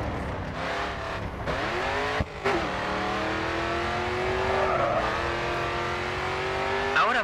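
A race car in GRID 2 taking a curve, its engine droning loudly and steadily throughout, with a brief dip and gear change midway and a rising rev toward the end.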